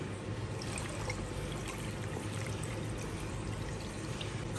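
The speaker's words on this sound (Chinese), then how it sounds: "然后加水" Water poured steadily into a wok of braised pig intestines and hand-torn tofu skin, a continuous splashing trickle at close range with no talk over it.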